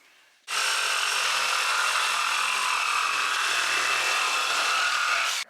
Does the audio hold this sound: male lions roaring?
no